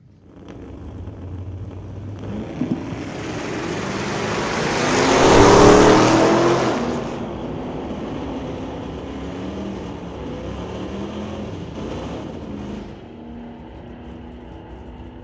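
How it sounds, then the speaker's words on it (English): A 1967 Ford Falcon at an old-time drag strip: the engine roars past loud and near, swelling to a peak and then fading into a steady distant drone. "McCartney in the right lane, behind the wheel, the 67 Falcon"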